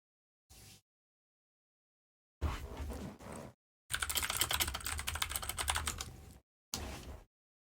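Typing on a computer keyboard comes in separate bursts of rapid clicking with silent gaps between them, closest and most intense in the longest run near the middle.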